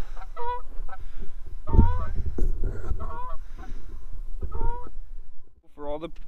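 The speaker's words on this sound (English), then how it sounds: "Oh, there's those geese again." Geese honk in a loose series of loud, nasal calls, some close and some farther off, outdoors by a frozen lake on the last ice-fishing day of the season, with someone talking in between.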